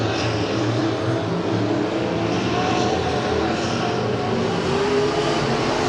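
Race cars roar around Arrowhead Speedway in a feature event, a dense, continuous engine drone that stays loud and steady throughout with no voices.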